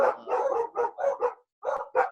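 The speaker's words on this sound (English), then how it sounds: "dogs are going crazy" Two small pet dogs bark in rapid bursts nearby, a string of sharp yaps with a short pause before a few more, heard clearly on their own.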